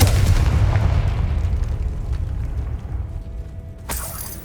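A Confringo fire spell in Hogwarts Legacy erupts as a loud, booming blast with a heavy low rumble that slowly fades, followed by a sharp crackling burst near the end.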